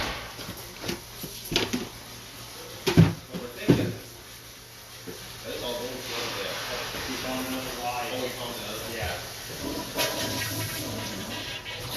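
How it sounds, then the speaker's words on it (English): A household toilet flushing close by, a loud rushing gush with sharp thuds early on, then a long gurgling drain and refill; people talk briefly around it. "Want me to flush the toilet?"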